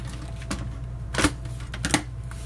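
Scrapbooking paper being cut along its length, with two louder crisp slicing snaps and a few lighter clicks, close up and alone against a soft background hum.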